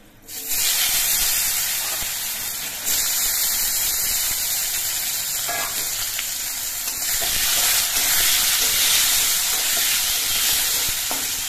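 Potatoes drop into hot oil seasoned with panch phoron and fry with a loud, steady sizzle and hiss close by, while a utensil stirs them now and then through the frying.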